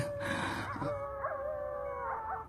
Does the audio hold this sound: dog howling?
yes